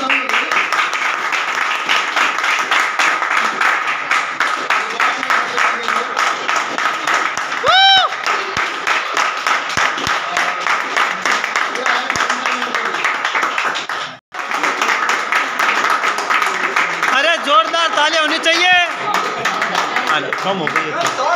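Steady applause and clapping from a gathered crowd at a Diwali event, continuing almost the whole time at a loud, even level, with a brief pause partway and some talk and whistle-like sounds mixed in.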